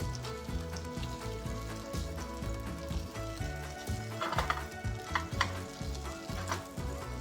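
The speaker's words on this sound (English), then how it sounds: "I'm gonna try and flip it." A vegan gimbap seaweed rice roll sizzles in a pan while being flipped, a continuous frying hiss with rhythmic clunks and scrapes from the pan, louder bumps near the end and no speech.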